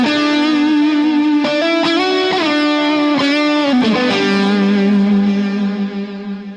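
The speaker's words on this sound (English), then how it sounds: "I've got a overdrive pedal. It's a Crazy Tube Circuits Venus tube driver." Electric guitar lead tone through a Crazy Tube Circuits Venus tube-driver overdrive pedal with stereo delay: loud sustained distorted notes sliding between pitches, each repeat echoing and trailing off at the end, with no talking.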